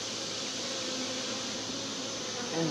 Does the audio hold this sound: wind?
no